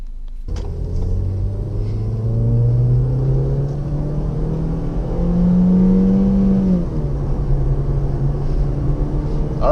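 A 2016 Ford Fiesta S with a 1.6-liter four-cylinder drives on the road, its engine droning low and close, with the pitch climbing through acceleration, dropping at a shift, then settling into a steady cruise.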